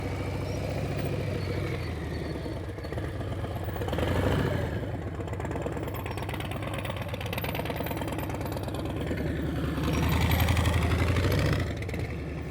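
A motorcycle engine runs steadily at low revs during slow-speed riding practice, a continuous close rumble that swells briefly twice as the throttle is loaded against the dragged brake, with no talking.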